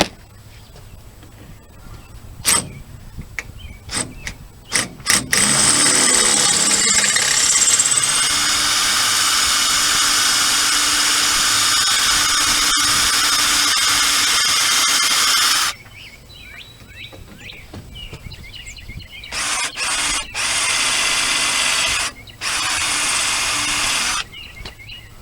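A power drill bores out a worn screw on the roof trim of a 1978 Apache pop-up camper, a loud sustained whine with several starts and stops, preceded by scattered clicks and handling knocks.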